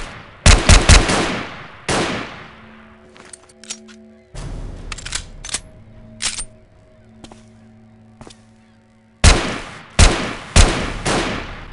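Enemy sniper gunfire in the video game Dead Epidemic: loud, sharp bursts of shots in clusters with gaps between them, separated by quieter stretches of steady in-game tones and scattered distant cracks.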